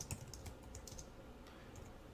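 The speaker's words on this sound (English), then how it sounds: "I can speed along my typing" Quick, light keyboard typing with irregular clicks, steady and close, with no voices.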